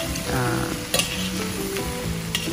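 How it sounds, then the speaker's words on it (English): Tofu vegetable fried rice with sesame oil and tamari being stirred in a hot pan, a steady close sizzle with scraping spoon strokes and a couple of sharper clatters, no talking. "And just go ahead and give that a final stir,"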